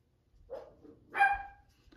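A dog gives two short barks, the second louder and more tonal, fairly faint and set apart from any talk.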